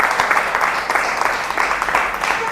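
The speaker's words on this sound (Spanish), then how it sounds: "Dele un aplauso al Señor." Congregation applauding the Lord during a church service, a steady wash of many hands clapping that holds throughout, fairly loud and close, with a faint voice or two mixed in.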